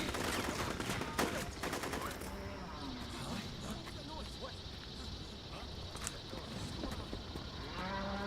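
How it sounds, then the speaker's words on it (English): A metal walker in Metal Gear Solid 4 lets out low, cow-like mooing bellows, drawn out and mid-distance, mixed with bursts of gunfire and background game noise. "It's like a cow or a bull or something."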